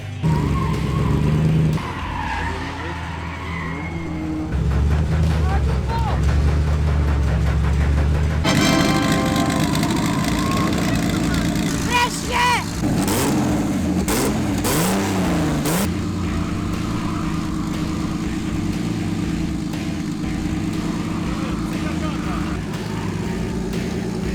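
A drift car's engine runs loudly and revs up and down in rising and falling surges, with voices talking over the engine noise.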